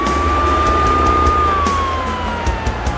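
A cartoon truck's siren wails loud and steady, holding one pitch before sliding gently downward, over a low engine rumble with faint rhythmic ticks, and no talking.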